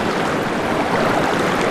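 Strong river current rushing over rocks, a dense, loud, continuous wash of water close at hand, with no other sounds standing out.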